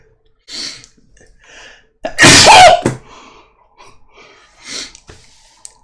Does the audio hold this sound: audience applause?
no